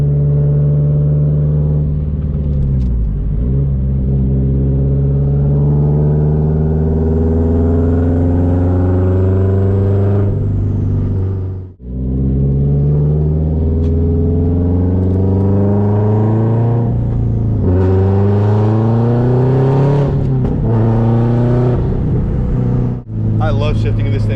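A 2004 Subaru WRX STI with a 400hp stock-block engine accelerates hard, its rising engine note dropping abruptly at each gear change before climbing again, loud and close inside the car.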